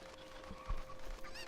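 A chicken in the video game Ocarina of Time, in a randomized playthrough, gives a few short, close clucks and honks over a steady hum of game sound.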